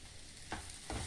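Matar kachori filling frying with freshly added green chili and grated ginger, a soft steady sizzle with two brief stirring scrapes of the spoon against the pan.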